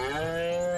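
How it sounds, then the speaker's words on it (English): A cow moos once inside the video game Destroy All Humans!, a single sustained low call that sounds close and clear, with no talking over it. "Moo? Again with the moo."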